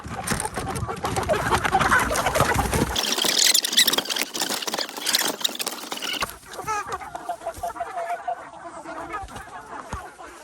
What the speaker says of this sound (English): All right, y'all, 50 birds coming out.